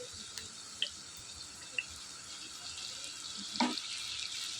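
Egg noodle masala fries in a pan with dark soy sauce and is stirred through. A soft, low sizzle runs underneath, with a few faint clicks and a brief scrape near the end.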